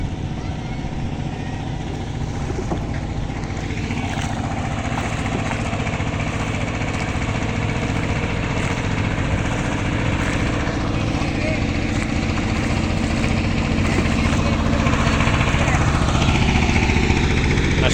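A motor boat used as a local crossing ferry on the Turag river drones loudly and steadily throughout, its engine chugging in an even, unbroken rhythm.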